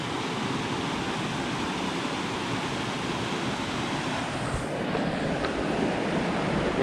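A river rushes through a tight, narrow gorge in Marinette County, Wisconsin, a loud, continuous roar of churning water close by, broad and steady, with some wind on the microphone.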